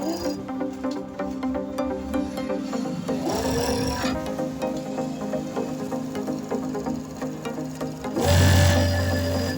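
Overlock 5-thread sewing machine running after servicing, a steady rhythmic mechanical whir with ticking, shifting partway and rising to a louder hum near the end.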